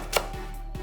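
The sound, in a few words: knife slicing green onions diagonally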